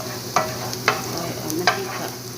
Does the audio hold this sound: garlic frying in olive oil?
yes